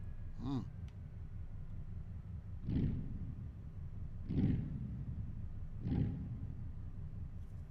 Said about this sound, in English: Hear that turbo? What's this? The V8 bi-turbo?